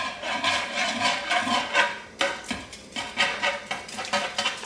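Banana muffin batter being mixed from scratch in a bowl, with a repeated scraping and stirring rhythm of utensil against the bowl, close and moderately loud.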